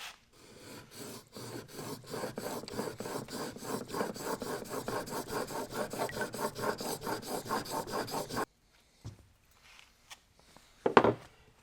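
A chisel rubbed back and forth on a 1000 grit sharpening stone gives a steady, rhythmic rasping of close strokes for about eight seconds, then stops, followed by a few faint clicks and a brief knock.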